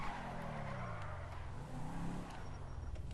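Sports car in GTA V driving hard with constant loud engine roar, shifting pitch and tyre squeal, skidding throughout with no talk.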